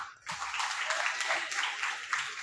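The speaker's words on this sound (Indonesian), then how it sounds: "Ayo, aplaus tepuk tangan" A class of seventh-grade students at an Islamic junior high school claps together after a call for applause, a dense steady patter that starts abruptly and carries on evenly for a couple of seconds with no voices over it.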